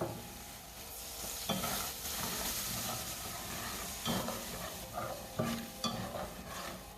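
Curried janga (crayfish, river shrimp) is stirred in a pot, a continuous bubbling sizzle with several spoon scrapes and knocks against the pot, no talking.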